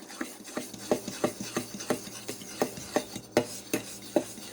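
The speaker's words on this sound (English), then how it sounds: "So all of your dry ingredients, except for the pecans, obviously, are in here, and I'm just trying to mix this up a little bit." Dry brownie ingredients of flour, salt, baking soda and cocoa powder being stirred in a bowl, giving a run of short, scraping rubs of the utensil against the bowl in a steady rhythm, close and moderately loud, with no talking.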